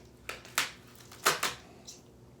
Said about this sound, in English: The noise in the background is my cat.